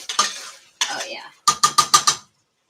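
A utensil stirs thick onion sauce in a pan, scraping close and loud in two longer sweeps followed by a quick run of five rhythmic clinking strokes against the metal.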